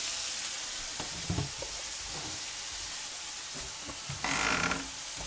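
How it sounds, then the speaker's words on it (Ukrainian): Steady, crackling sizzle of flour-coated crucian carp frying in hot oil, with a few soft knocks and a brief louder hiss near the end. "і смажимо, обсмажуємо рибу"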